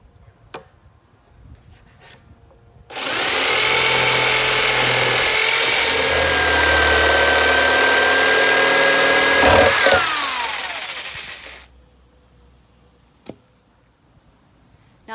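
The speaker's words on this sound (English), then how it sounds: "Now I'm just going to take my jigsaw and cut the top all the way around." A jigsaw cuts around the top of a plastic tank in one continuous burst lasting several seconds, loud and close, then winds down to quiet with a couple of faint knocks.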